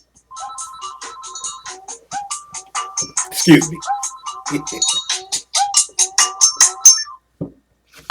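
A mobile phone ringtone for an incoming call plays a bright, rapid melody of repeating electronic notes for several seconds, with a brief spoken word partway through.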